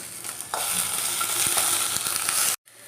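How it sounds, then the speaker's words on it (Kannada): Onion, ginger and garlic fry in hot oil for a mutton tripe gravy, a loud steady sizzle with faint stirring, cutting off abruptly near the end. "ಈರುಳ್ಳಿ ಶುಂಠಿ ಬೆಳ್ಳುಳ್ಳಿ ಎಲ್ಲ ಕಟ್ ಮಾಡಿ ಇಟ್ಕೊಂಡಿದ್ವಲ್ಲ ಅದನ್ನು ಹಾಕ್ಕೊತಾ ಇದ್ದೀನಿ ಇದೊಂಚೂರು ಫ್ರೈ ಆಗಿಬಿಡಲಿ"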